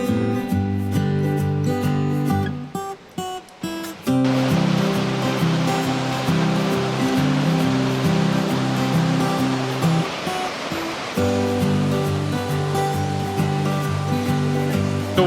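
Waterfall at Buckety Spout, a steady, loud rush of falling water heard up close, its broadband roar continuous throughout with a brief dip in the middle, no voices.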